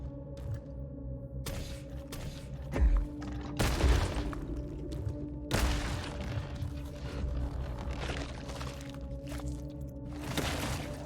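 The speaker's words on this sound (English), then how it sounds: "I've seen him fire 1 set of projectiles" An enemy in the video game Scorn fires a salvo of projectiles, heard as several heavy bursts and booms spread over the stretch, with a low hum and occasional clanks between them.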